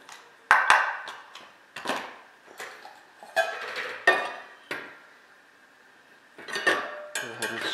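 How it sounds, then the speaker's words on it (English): A utensil scrapes and taps grated orange zest from a grater into a kitchen bowl in a home kitchen, giving a string of bright metallic clinks and scrapes with short pauses between them. "let's go ahead and scrape the rest of the oranges into the bowl"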